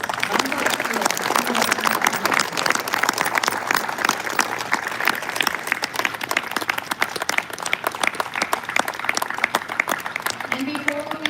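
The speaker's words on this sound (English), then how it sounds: "Please join me in giving Jaime Hadid a round of applause" Stadium crowd at the MLB All-Star Game at Dodger Stadium in Los Angeles applauding, a dense, steady wash of clapping and cheering that holds at full volume throughout.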